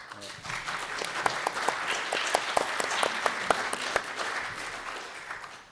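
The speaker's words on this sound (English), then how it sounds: "They all deserve a big round of applause." A small audience at a screening Q&A for the 2023 Romford horror film Mask Of The Devil claps for the cast, a modest round of distinct, scattered handclaps that swells, then tapers off over several seconds.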